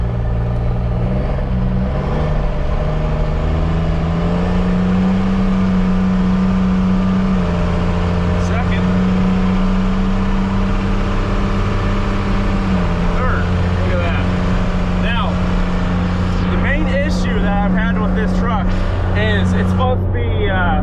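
A Ford truck with a swapped Cummins diesel engine drives along, its steady low drone holding for stretches and dropping as it shifts through the gears of a three-speed with overdrive; rattles and knocks sound over it near the end.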